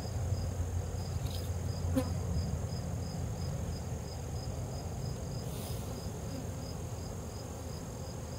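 Steady buzzing of many bees around a hive and queen excluder, a continuous close drone with no talking.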